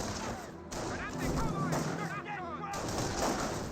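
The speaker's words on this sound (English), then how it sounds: "Lots of sniper shots there." Sniper rifle shots ring out in a Company of Heroes battle, sharp gunfire cracks scattered over a busy wartime soundscape while a voice talks throughout.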